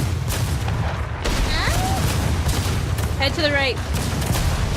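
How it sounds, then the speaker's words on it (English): Cannon fire from an enemy ship in a naval battle video game, heavy booming shots rumbling continuously beneath a player calling out over a voice channel. "Oh, they're firing, Hold on, they're well, firing. they are shooting at us."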